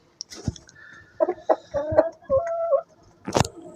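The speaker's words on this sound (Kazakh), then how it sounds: "Мында менде Кучинский юбилейный тауықтарым." Kuchinsky Jubilee hens cluck inside a henhouse, a close run of short rhythmic clucks rising into a drawn-out call, with a sharper squawk near the end.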